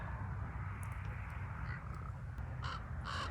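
Crows caw near a Nevada winery, a few harsh calls spaced apart and growing into a short cluster of repeated caws near the end, moderately distant over a faint steady background hiss.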